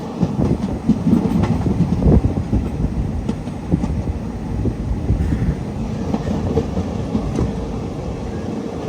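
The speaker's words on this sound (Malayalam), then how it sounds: "ബേക്കൽ ഫോർട്ട് റെയിൽവേ സ്റ്റേഷനിലേക്ക് ഇതാ ട്രെയിൻ എത്തിക്കൊണ്ടിരിക്കുകയാണ്." A passenger train rumbles loudly past at close range as it arrives at Bekal Fort railway station in Kerala, wheels clattering rhythmically over the rails with a heavy, continuous roar and no voices.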